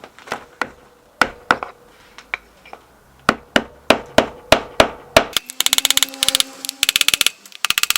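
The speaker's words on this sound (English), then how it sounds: "get a block of wood, a longer block of wood, and use it to tap the other bits, and that's what I'm going to do now" A long block of wood taps parts loose on a Yamaha XJR1200 engine during valve clearance work, sharp wooden knocks at uneven intervals that speed into a rapid flurry of close, crisp hits near the end.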